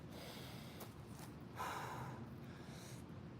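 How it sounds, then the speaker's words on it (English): A deep breath drawn in during a live arm workout, a single steady rush of air lasting a few seconds, close and moderately loud against a constant background hiss. "we're going to take a deep breath here"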